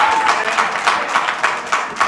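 An audience claps at a regular city council meeting, a fairly loud, close patter of many hands that keeps a steady rhythm for the whole stretch.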